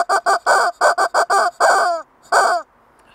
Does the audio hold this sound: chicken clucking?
yes